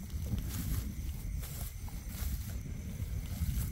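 A motorboat runs along a canal beside a lime orchard, its steady low engine rumble and wash noise filling the whole stretch at a fairly close, constant level with no voices.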